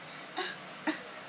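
A person gives two short, deliberate coughs about half a second apart as an exaggerated, posh-sounding imitation, close to the microphone and otherwise quiet.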